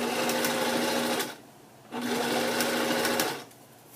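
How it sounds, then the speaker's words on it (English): A sewing machine stitches elastic into a serged cloth diaper, running down outside the serge line in two steady bursts of rapid whirring with a short pause between, close and loud. "I'm going to stitch all the way down on the outside of the serge line"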